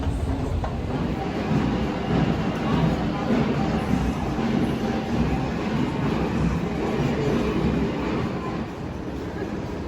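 Steady broadband rumble of a metro train from inside a moving carriage, continuous and fairly loud throughout with no clear talk over it.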